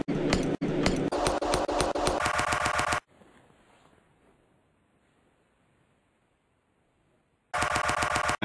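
Heavy's minigun from the video game Team Fortress 2 fires in two loud, rapid mechanical bursts, cutting abruptly to near silence with a faint fading tail before a second roaring burst at the end.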